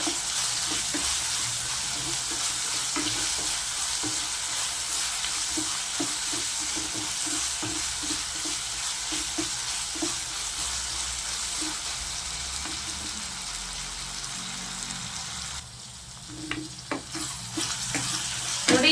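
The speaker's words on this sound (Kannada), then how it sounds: "ಸ್ವಲ್ಪ ಹಂಗೆ ಫ್ರೈ ಆಗಲಿ ಇದು ನೋಡಿ ಅದರ ಜೊತೆಗೆ ಗೋಡಂಬಿ ಹಾಕಿದ್ದೀನಿ" Cashews frying in a pan for chicken sambar give a steady, close sizzle with soft stirring scrapes, continuous throughout and a little quieter toward the end, with no talking.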